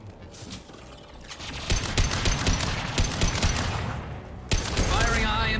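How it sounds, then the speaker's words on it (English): Gunfire in Mass Effect Legendary Edition: a high-impact shot amid a dense fusillade of rapid sharp reports, loud and close, with a louder burst near the end and a voice talking over the battle. "Firing a high-impact shot."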